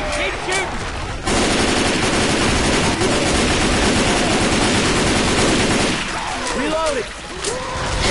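Sustained automatic gunfire in the zombie shooter Left 4 Dead 2, a loud continuous burst of rapid shots in the middle, with quieter scattered shots and game effects before and after.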